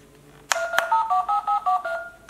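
A pink princess toy mobile phone plays electronic dialing tones: a sharp click, then a quick run of distinct beeps of varying pitch, close and fairly clear over a quiet room.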